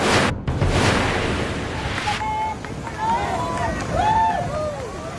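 Strong sea waves roar with gusting wind around a fishing boat during a typhoon rescue of two fishermen off Mamburao, Occidental Mindoro, a loud continuous wash with wind buffeting the microphone and faint voices calling over it.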